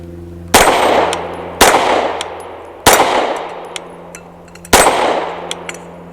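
Four loud, widely spaced shots from a Canik METE SF pistol, each followed by a bright ringing clang of a steel target that lingers and fades before the next shot.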